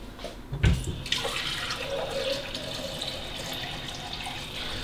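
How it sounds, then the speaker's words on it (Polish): Water poured into a pot while rendering beef tallow for soap, a short thump at the start and then a steady trickling, splashing stream close by that keeps running to the end. "daj mi najpierw wodę nalać"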